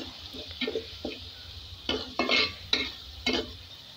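Turmeric and chili frying in a pan, with bursts of sizzling and scraping as a utensil stirs the spices in irregular strokes, fairly close and alone.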